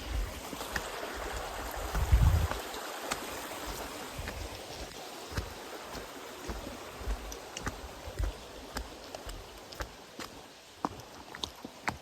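Steady rushing water from a flowing stream on the Pacific Crest Trail near Washington fills the background, with scattered small clicks and knocks from nearby movement.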